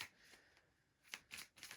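Tarot cards are shuffled quietly in a few quick riffles and flicks, soft and close, with no talking.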